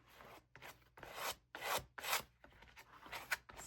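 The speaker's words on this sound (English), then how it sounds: "Scraper tool." A scraper tool dragged across a gel printing plate in repeated rough rasping strokes, about six passes with short pauses between, close and quiet with no talking.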